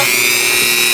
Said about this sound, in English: I like this Dremel right here because it has this little lever and it can go down like that